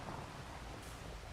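Steady rain falling in Farming Simulator 25 on a Montana farm, a faint, even hiss of drops with no breaks, heard alone.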